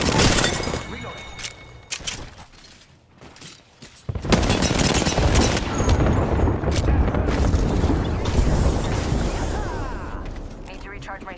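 Rapid bursts of weapon fire from an Apex Legends match, loud and dense through most of the stretch with a quieter lull early on, mixed with mechanical clicks and game effects.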